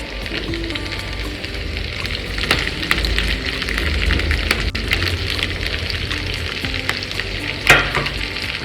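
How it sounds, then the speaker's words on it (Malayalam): Ginger, garlic and slit green chillies sizzle steadily in hot coconut oil for a king fish mappas, a close, dense crackle with occasional stirring clicks and spatters. "വെളിച്ചെണ്ണ ചൂടാകുമ്പോൾ അതിനകത്തേക്ക് കുറച്ച് ഇഞ്ചി, അത് വെളുത്തുള്ളി, ഇഞ്ചി, കീറിവെച്ച പച്ചമുളക്"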